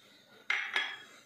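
Dry fruits tipped into a bowl of melted chocolate for Valentine's surprise chocolates: two quick, close clattering knocks against the bowl, a quarter second apart, over quiet room tone.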